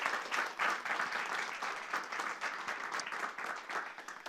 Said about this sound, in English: How about a round of applause to our student speakers?